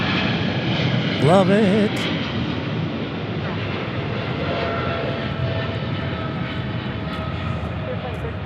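Powerful cargo jet engines roar with a steady, whining hum nearby at Memphis International Airport, and a person briefly speaks over the noise.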